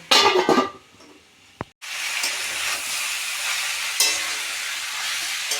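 Chicken curry fries in a pan with a loud, steady sizzle and hiss as it is stirred, briefly dropping quiet after a clatter before the frying noise surges back and holds.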